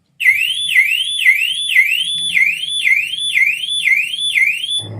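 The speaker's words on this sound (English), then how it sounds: "The sound of car alarms going off is becoming all too familiar" A car alarm wails close by in a rapid repeating rising whoop, steady and loud for several seconds before cutting off.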